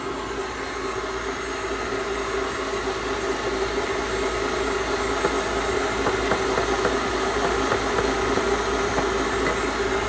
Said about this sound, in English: Whipping here a little bit of Grand Marnier in the egg yolks.